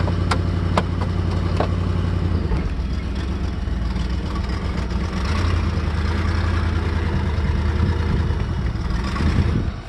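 A computer-controlled car engine running on propane, held on throttle to keep it going, a steady close engine drone with a few sharp clicks early on.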